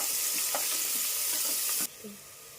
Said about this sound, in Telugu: ఇప్పుడు బాగా ఎర్రగడ్డలు వేగిపోయినాయి.